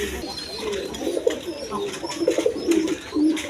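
Pigeons coo in a loft: big Lal Gola, Sapchok and Chuital colour breeds of fancy pigeon. Repeated throaty coos rise and fall nearby over a low background murmur, with a few faint chirps.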